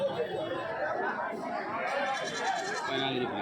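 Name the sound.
goats bleating at Kadiri livestock market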